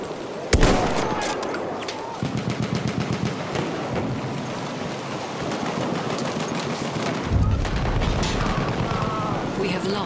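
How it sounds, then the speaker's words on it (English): Battlefield 1 machine gun fire on the Zeebrugge map, rapid bursts of shots mixed with explosions and battle noise, loud and continuous, with shouted voices over the top. "Machine gun over there!"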